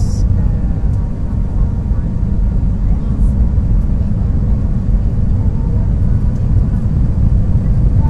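A Zest Air A320 jet landing in Cebu fills the cabin with a dense, steady engine and airflow roar, heard from inside with people talking faintly over it.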